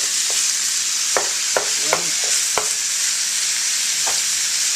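Ground meat and onions fry together in a pan for chili, making a loud, steady close sizzle with a handful of sharp clicks and taps from a utensil scattered through it.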